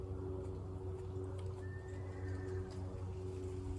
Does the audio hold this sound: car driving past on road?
no